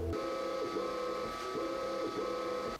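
An FLSUN S1 3D printer runs its calibration sequence, a steady motor whine with a high tone and a rhythmic repeating pattern of moves that keeps going throughout.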